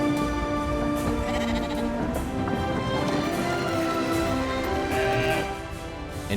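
A sheep bleats again and again in the video game Brothers: A Tale of Two Sons, with loud, wavering cries over a busy game soundscape that has hoof-like clatter underneath.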